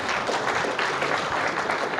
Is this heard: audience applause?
yes